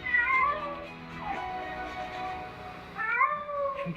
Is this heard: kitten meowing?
yes